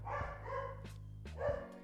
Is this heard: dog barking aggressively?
yes